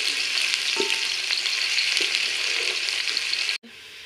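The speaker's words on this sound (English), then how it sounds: "Now you stir until the onions turn golden brown." Onions frying in oil in a sufuria as they brown, a loud, dense crackling sizzle with occasional stirring knocks, cutting out abruptly near the end.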